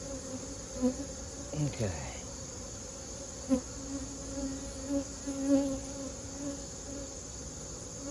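Agitated honeybees swarm around an opened hive, a dense, steady insect buzz with individual bees droning past close by, and a brief word spoken once.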